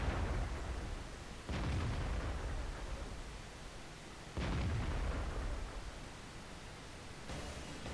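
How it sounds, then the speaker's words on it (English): Close-range tank gun shots in World of Tanks, two heavy booming blasts a few seconds apart with a third softer one near the end, each leaving a long rumbling wash of noise. "I just want to test out how good this gun is at close range."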